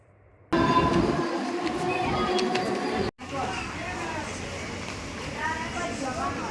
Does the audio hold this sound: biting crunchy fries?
no